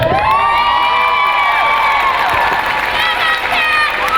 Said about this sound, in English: I would like to have a huge Madison round of applause for Hellcat